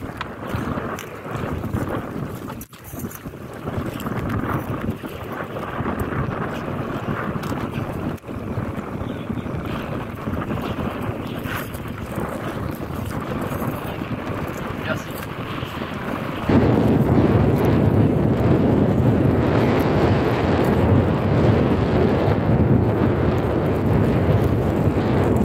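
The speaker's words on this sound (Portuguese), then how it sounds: "Muito vento, galera. Vento aqui, maresia tá" Strong sea wind buffets a fishing canoe out on the water during gillnet fishing, a continuous roar that grows noticeably louder and fuller partway through.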